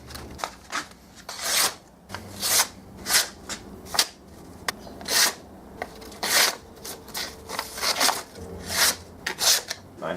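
A knife from a DIY kit is drawn across a whetstone in a steady run of close, rasping strokes, each a short bright scrape separated by brief pauses.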